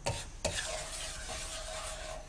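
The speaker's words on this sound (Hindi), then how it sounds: "दरमियानी आंच पे आटे को भूनें" Wheat flour roasting over medium heat in a pan for desi halwa, with a steady, dry hiss and stirring scrapes, plus a couple of brief utensil knocks at the start.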